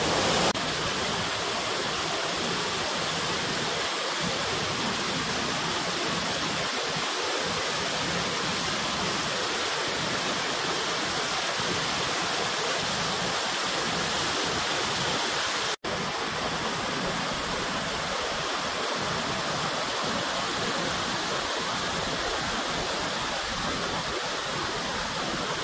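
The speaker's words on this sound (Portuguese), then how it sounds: "Então essa aqui é a Cachoeira das Andorinhas, aqui do Vale das Cachoeiras" Steady, loud roar of the Cachoeira das Andorinhas waterfall in Vale das Cachoeiras, Bananal, São Paulo, a dense unbroken rush of falling water filling the whole clip with no voices.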